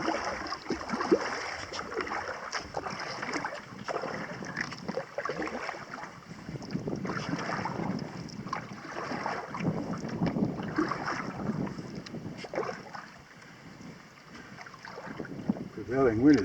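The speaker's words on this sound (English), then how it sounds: "I'm paddling mostly on the left side here to go straight" A canoe is paddled across a windy lake, with gusting wind buffeting the microphone, soft water swishes from the paddle strokes and low speech at times.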